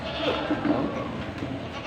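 Goats bleat in short nasal calls at a busy livestock sale, with crowd noise and voices of people talking mixed in around them.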